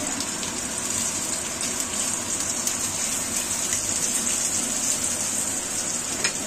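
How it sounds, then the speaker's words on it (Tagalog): Minced pork frying in a pan in a home kitchen, giving a continuous close sizzle with a bright hiss and faint crackle that stays even throughout, with no talking. "habang nagpiprito ako ng aking minced pork"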